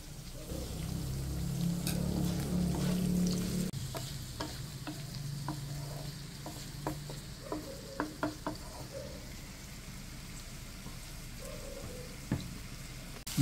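Sliced onions hit hot oil in a pan alongside green chillies and sizzle loudly, then the frying settles into a softer, steady crackle while a spoon scrapes and clinks against the pan in scattered strokes.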